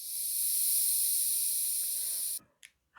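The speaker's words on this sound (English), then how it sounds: "Deflate it slightly." Air hisses steadily out of a twisted latex balloon being partly deflated while a balloon dog is made, a loud continuous rush that cuts off abruptly, followed by a couple of faint squeaky rubber sounds.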